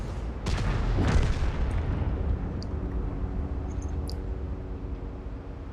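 Tank cannon firing in World of Tanks, a couple of sharp booms close together at the start, followed by a long rumbling decay with faint clicks.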